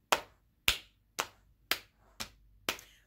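Six sharp single hand claps in a slow, even beat, evenly spaced about half a second apart, crisp and close with quiet between each, setting the rhythm for a children's clapping song at storytime.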